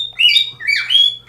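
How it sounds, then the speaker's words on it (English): A pet bird squawks and chirps close by in a room, a few loud, rising and falling calls across a short burst with a faint low electrical hum underneath. "Shut up, bird."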